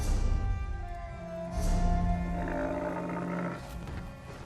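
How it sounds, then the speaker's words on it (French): A big cat in the video game The Elder Scrolls Online: Elsweyr lets out deep, rumbling roars and growls, loud and close, with a second swelling roar midway through. "Le rugissement du premier chat dans le vent?"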